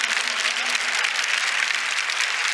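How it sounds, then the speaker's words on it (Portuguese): An audience applauds in a church, a dense, steady wash of hand clapping lasting a few seconds, moderately loud and unbroken, with no speech over it. "Vamos aplaudir."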